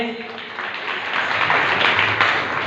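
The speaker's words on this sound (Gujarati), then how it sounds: "અને સાથે જોરદાર તાળી પાડીએ" Audience at a Maha Shivratri Hindu gathering breaks into loud, sustained applause, many hands clapping densely together and swelling slightly toward the end.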